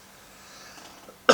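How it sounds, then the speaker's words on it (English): A single sharp cough bursts out loudly at the very end after a near-silent stretch of faint room noise. "I do apologise for the cough."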